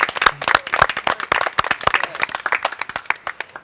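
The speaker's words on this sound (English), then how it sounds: "Let's do a round of applause for that." A crowd at a charity fundraiser event claps in loud, close, dense applause, many overlapping hand claps forming a lively patter that tapers slightly toward the end.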